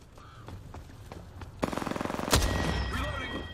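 Rapid automatic gunfire in the shooter game Apex Legends, a burst of evenly spaced shots followed by a sharp louder blast, close and loud, with quieter game sounds before it.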